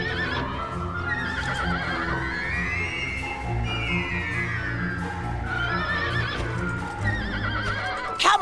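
A horse in Dragon Quest VIII neighs and whinnies repeatedly over the steady clip-clop of hooves and a game music backdrop, the loud, wavering cries rising and falling close up.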